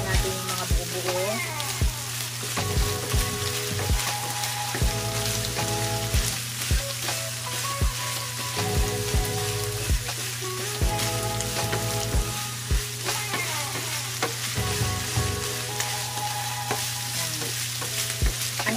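Ground beef sizzling in a pan while lumps are crushed and stirred: steady loud frying hiss with repeated scraping and pressing strokes throughout, near and continuous, with music playing underneath.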